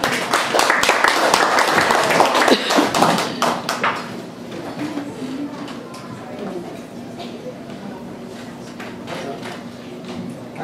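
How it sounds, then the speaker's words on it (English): Audience applause at the Silicon Valley's Got Talent show for a performer, a few seconds of clapping and cheering that fades into room noise and light talk. "Round of applause for Patrick."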